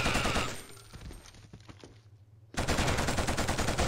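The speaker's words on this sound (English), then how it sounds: "I'm not afraid with this thing. With my little minigun." Minigun fire in the first-person shooter Killzone, a dense, loud continuous rattle of rapid shots that breaks off into a quieter gap with scattered pops, then resumes at full force.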